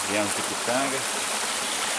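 A stream at Mestre Álvaro, on the Furnas side, runs somewhat lower after several dry days, giving a steady close rush of flowing water, with a person briefly speaking over it at the start.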